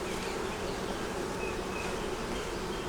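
Honeybees festooning on foundation in a hive, a steady, dense buzz of many wings held close and continuous throughout, with no voices.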